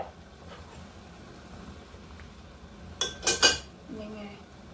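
A few hard clanks and rattles as pork soft bones drop into a metal cooking pot, a short cluster of knocks over quiet kitchen background.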